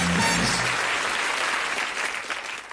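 A studio audience at a UK game show bursts into loud, dense applause that stays steady and close and fades slightly toward the end, with no voices over it.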